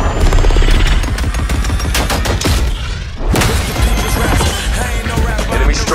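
Dense automatic gunfire and explosive crashes fill a Call of Duty Black Ops 4 game trailer, loud and continuous with a brief lull midway before the barrage resumes.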